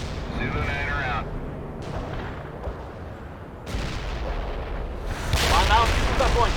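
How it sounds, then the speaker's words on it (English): Artillery strike in the World in Conflict video game rumbles as a run of heavy, booming impacts and roaring blasts, with radio-style voices speaking over parts of it. "Artillery strike was on the mark."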